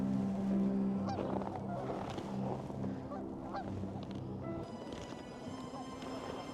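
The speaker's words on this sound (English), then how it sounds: "there's the swans" Swans honk in a park, calling repeatedly in overlapping harsh honks that sound close and fairly loud, layered over a busy outdoor background with no speech.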